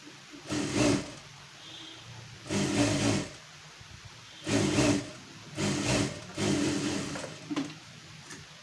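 Sewing machine stitching a tack along a round neckline on a garment, running in five separate bursts of about a second each with short pauses between, fairly close and alone with no talk.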